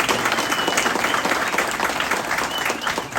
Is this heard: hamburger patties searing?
no